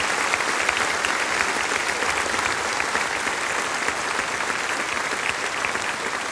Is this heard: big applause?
yes